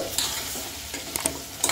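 Mutton pieces frying in oil for gravy, a steady close sizzle broken by a few sharp scraping stirs of the pan, with no talk.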